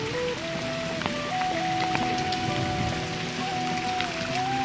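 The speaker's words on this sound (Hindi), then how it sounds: "बारिश बहुत ज़्यादा हुई है, ये देखो।" Heavy rain in a village patters on surfaces with a continuous hiss, while a faint tonal hum drifts underneath; no voices.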